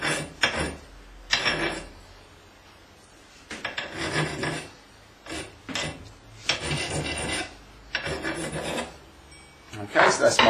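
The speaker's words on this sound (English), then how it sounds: "All I've literally done is just file both the outside edge and the inside edge" A hand file rasps burrs off a lever lock pick wire in several separate bursts of quick scraping strokes with short pauses between, close and crisp.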